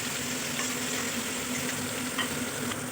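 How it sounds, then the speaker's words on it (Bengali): Green chillies and onion fry in a pan with whole garam masala, giving a continuous dense sizzle with a faint steady hum underneath. "কাঁচা লঙ্কা, পেঁয়াজ, একটু ভেজে নেব।"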